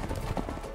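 Hooves of loose horses clatter briefly in the video game A Way Out, a short muffled rumble of clip-clop close by with no talk over it.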